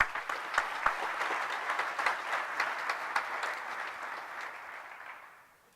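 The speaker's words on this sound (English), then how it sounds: "let us give Professor Liebenberg a round of applause." A crowd at a law school graduation ceremony applauds steadily for several seconds, a dense patter of many hands clapping that fades out at the end.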